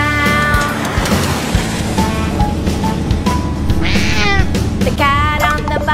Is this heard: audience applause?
no